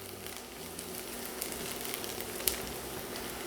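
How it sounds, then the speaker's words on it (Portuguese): Garlic and onion frying together in a pan while being stirred give a steady, quiet sizzle with a few faint scraping ticks and no talking. "E vou mexer aqui rapidamente só para o alho fritar."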